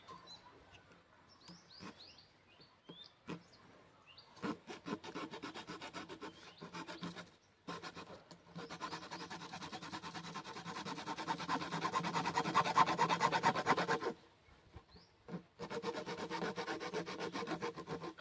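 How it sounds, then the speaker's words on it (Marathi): A blade rubbing and rasping as it cuts vertical strips for a homemade fertilizer tool for young plants, the scraping coming in repeated close strokes with short pauses, and faint bird chirps behind it. "आपल्याला आता असं उभं कापून घ्यायचं आहे"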